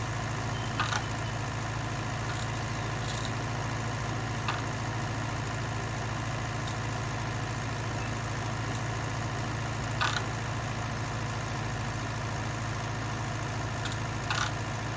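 A County 754 tractor engine labours steadily uphill while pulling a Massey Ferguson plough, a constant low drone with a few faint clicks over the top.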